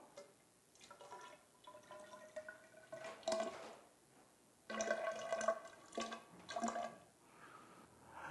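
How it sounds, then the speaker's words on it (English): Water poured into a small container during a capacitance demonstration, with faint trickling and splashing in short bursts, the louder pours coming toward the middle and end. "Adding some water to this increases the water level and should cause the capacitance to go up."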